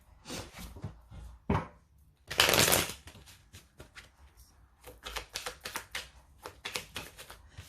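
Tarot cards from a Vision Quest deck being shuffled and drawn, crisp close riffles and sharp slaps, with one louder burst of cards riffling midway and then rapid taps and flicks; no talking.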